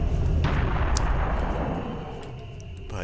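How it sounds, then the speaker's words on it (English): Portable cannon firing in the Serious Sam first-person shooter, a dense continuous barrage of loud booming blasts with rumbling low end that persists throughout, with a few sharper cracks over the top and the din easing slightly toward the end. "I have a portable cannon. I can just shoot at these guys all I like."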